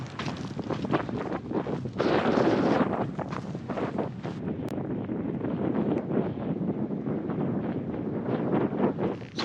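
Cold wind on a desert ridgeline in the Mojave-Sonoran region, buffeting the microphone in a continuous loud roar with gusty swells and no voices.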